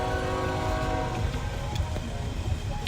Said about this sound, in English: We're stopped at the train.